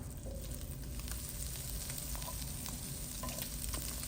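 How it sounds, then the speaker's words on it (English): Pork searing in hot oil in a cast iron skillet, a steady, close, dense sizzle running throughout with faint scraping, no voices. "I have heated up some oil in my cast iron skillet, and I just want to get a good sear on the pork."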